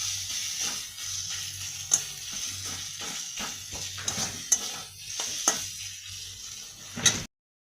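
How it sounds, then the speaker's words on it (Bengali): Ginger paste sizzles steadily in a hot pan while browning for a boneless chicken curry, a continuous frying hiss broken by several sharp clinks and scrapes from stirring, close and fairly loud with no voices. "এক চামচে আদা বাটা দিলাম, দিয়ে একটু কষে নেব"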